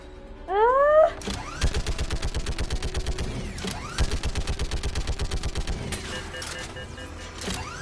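Mass Effect 3 combat: bursts of rapid automatic gunfire in the video game, loud and close, with sweeping sci-fi weapon whines and mechanical clatter between the volleys.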